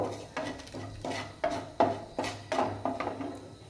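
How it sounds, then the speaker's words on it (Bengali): Potato filling ingredients with fenugreek and chaat masala being stirred in a pot, a series of about nine distinct scraping, knocking strokes at a steady rhythm, close and moderately loud, with no voices. "দিয়ে ভালো করে আমি উপকরণগুলো নেড়ে ছেড়ে নেব।"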